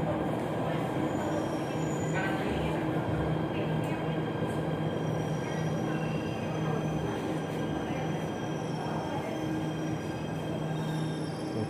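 A Jakarta MRT train runs loud and steady through a station on the Lebak Bulus to Bundaran HI line, giving a continuous rumble with faint wheel squeal and no talking.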